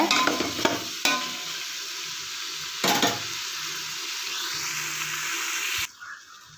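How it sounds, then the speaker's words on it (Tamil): Masala for Ambur-style mutton biryani frying and being stirred in a pan, a steady close sizzle broken by a few louder scraping stirs, with no talk, before the sizzle drops away at the end. "இப்போ வந்து மசாலா வந்து நல்லா ஃப்ரை பண்ணி விடுங்க ஒரு ஃபைவ் மினிட்ஸ் ஃப்ரை பண்ணி விடுங்க"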